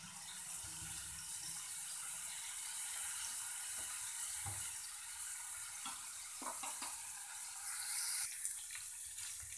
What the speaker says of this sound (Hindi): पनीर को हम अच्छे से घुमाते रहेंगे, जिससे कि ये कढ़ाई में नीचे ना लगे